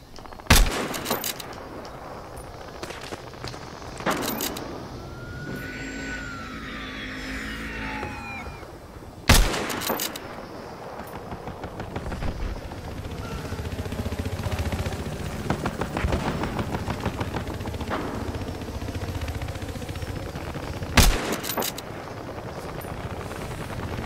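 Gunfire in the video game Battlefield Hardline: sharp, loud bursts of automatic fire crack out at intervals over a busy battle backdrop of rumbling engines and scattered distant shots.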